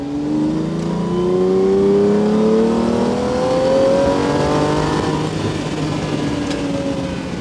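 Classic Italian V12 engine, from a Ferrari Daytona or Lamborghini 350GT, revving up through the gears while driving, loud and close with rising and falling engine pitch.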